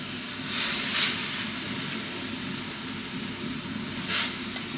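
Chicken with a Coca-Cola mix sizzles in a pan as a steady broadband hiss. A few louder bursts of spitting and crackling flare up along the way.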